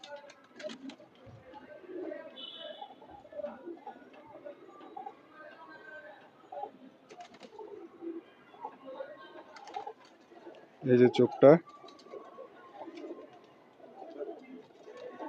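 Soft cooing from a female pigeon close by, low murmuring calls repeating under a person speaking briefly, with some handling noise and a louder burst near the end.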